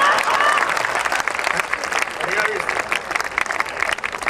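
Audience applause at a Hindi comic poetry gathering, dense steady clapping from a crowd with cheers mixed in, fairly loud and continuous, with someone speaking over it.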